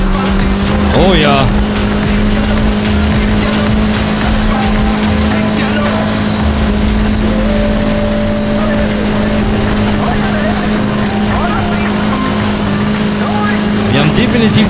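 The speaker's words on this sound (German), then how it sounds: "Wir haben definitiv das falsche Auto." A Mercedes G63 AMG roars through a race in the video game Need for Speed Heat, its engine drone steady and loud throughout, with tire squeals and a voice talking over the car in German.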